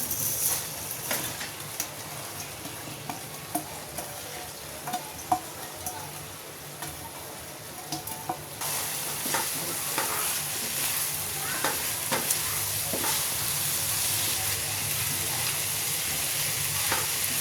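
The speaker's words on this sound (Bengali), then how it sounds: "ওটার মধ্যে আমি এখন এই মুগ ডালটা সটে করে নিচ্ছি" Mung dal sautéing in fish head gravy, a steady close sizzle with scraping stir strokes that grows louder and fuller partway through, no talk.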